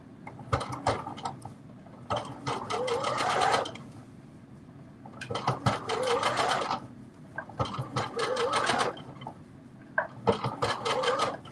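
A home sewing machine stitches a quarter-inch seam along the edge of a fabric face mask, running in several bursts of rapid, close mechanical clatter separated by short pauses.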